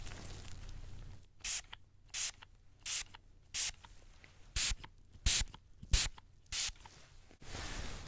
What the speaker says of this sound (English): I'm going to spray a finishing spray for the tattoos